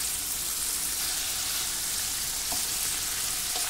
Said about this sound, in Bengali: গরম তেলেতে চিংড়ি মাছগুলো আমি ছেড়ে দিলাম।